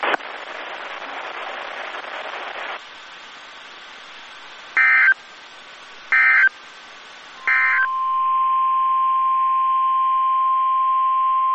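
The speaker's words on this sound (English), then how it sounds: "The preceding signal was a test of the public warning and alarm for transmitters in the Florida listening area" A NOAA Weather Radio weekly emergency alert test: a long loud burst of noisy data tones, then three short data bursts, then a steady single alarm tone holding to the end, with no speech.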